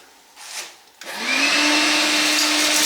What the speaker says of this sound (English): So now the vacuum cleaner looks like this.